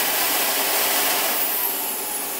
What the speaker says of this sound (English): When you power on the dryer,